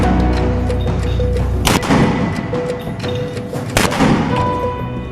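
A Hamas fighter fires rockets and a 60 caliber mortar launcher toward IDF positions: two heavy blasts land a couple of seconds apart over a continuous dense rumble, loud and close.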